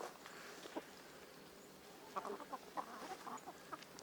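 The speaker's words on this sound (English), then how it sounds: "we actually do have two roosters who get along." Roosters on a small farm give short crowing and clucking calls, faint and a little distant, scattered over a quiet outdoor background.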